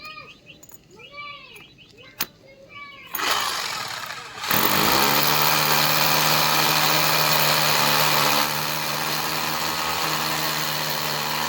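An electric drill bores a hole for a TV wall mount during a DD Free Dish and Realme LED TV installation, starting after some talk and then running steadily and loudly, easing slightly near the end.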